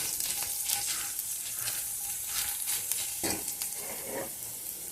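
Dried red chillies fry in oil in a pan, a soft steady sizzle and crackle broken by a few stirring scrapes and taps, close and fairly quiet with no voices.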